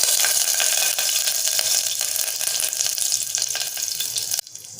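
Curry leaves crackling and sizzling in hot oil in a pressure cooker, a loud close spitting sizzle with sharp pops that cuts off abruptly near the end.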